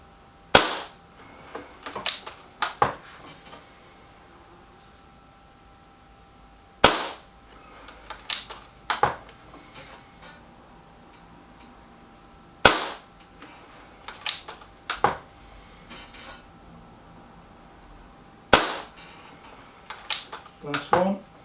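BSA Defiant air rifle fired at a target card: a series of sharp, loud cracks in spaced bursts of two to four shots, each followed by a faint metallic ring, with quiet gaps in between.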